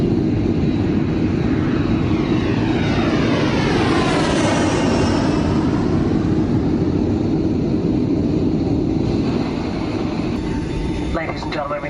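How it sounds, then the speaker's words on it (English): Jet airliner engines roaring steadily through takeoff, a loud continuous rumble with a sweeping whine rising and falling above it, heard from inside the cabin. "Cabin crew, please be seated for takeoff."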